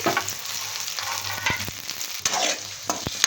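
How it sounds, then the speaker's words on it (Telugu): Carrots and curry leaves frying uncovered in a pan for cauliflower fried rice, a soft steady sizzle with scattered scraping stirs, close and without talk. "ఇవన్నీ మూత పెట్టకుండా ఫ్రై చేయాలి"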